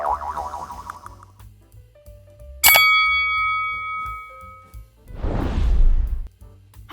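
A bright bell-like ding with a long ringing tail, followed by a whoosh, the short chime used as a subscribe-button sound effect, heard alone.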